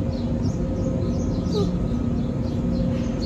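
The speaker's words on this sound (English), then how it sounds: "Birds are flying away around me and making noise." Several birds call and chirp in short bursts as they fly off, over a steady low rumble of truck machinery at a Nestle Purina site in Fairburn, Georgia, the calls scattered across the whole stretch.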